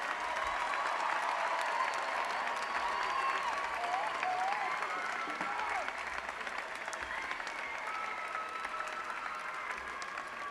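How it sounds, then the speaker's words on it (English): Steady applause and a few whoops from the crowd at a La Salle College Preparatory commencement for the graduating class of 2026, a continuous, moderately distant roar of clapping with faint voices mixed in. "Let's give them one more big round of applause"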